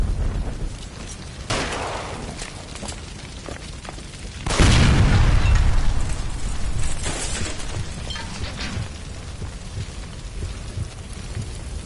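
A gas line blowing up inside a building in the crime game L.A. Noire: after a softer crackling noise, a sudden loud explosion bursts out with a deep rolling rumble that slowly fades into a hissing, crackling tail.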